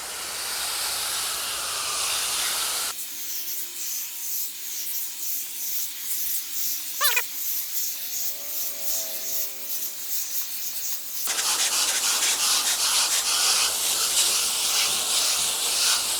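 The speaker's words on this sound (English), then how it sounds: "you're going to grab your hose, and you're going to lightly mist" Garden hose lightly misting water onto an outdoor AC unit, a steady close hiss that cuts out for several seconds midway and then resumes, with faint background sounds during the pause.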